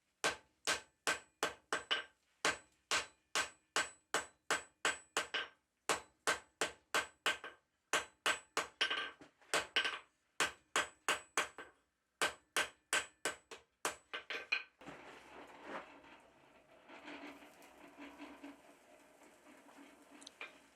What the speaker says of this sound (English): I can just start gently hammering it into its final shape